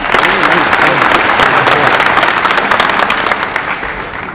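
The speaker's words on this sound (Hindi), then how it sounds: "जोरदार तालियां" Dense applause from a crowd at a political rally claps steadily and loudly for several seconds, with some voices mixed in before it begins to taper.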